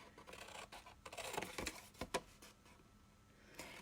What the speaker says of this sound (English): we're going to take our scissors and we're going to cut up to the score line